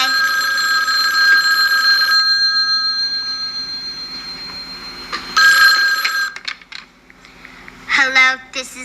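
A telephone rings in a steady electronic warble for about two seconds, pauses, then rings again briefly before an answering machine voice comes on near the end.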